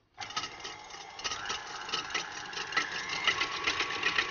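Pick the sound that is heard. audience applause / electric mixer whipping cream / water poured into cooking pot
electric mixer whipping cream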